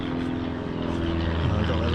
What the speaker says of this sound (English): Oh, I've got a little plane.